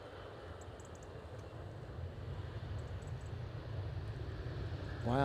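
An ITA Airways airliner landing at Edinburgh airport, a distant, steady jet engine roar mixed with wind rumble that slowly grows louder toward the end, with no talking.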